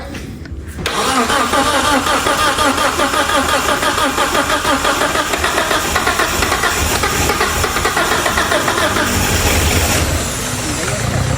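A Mitsubishi Galant car engine cranks and starts after a brief quiet moment, then runs loudly and steadily at a rough idle for the rest of the clip, with people talking nearby.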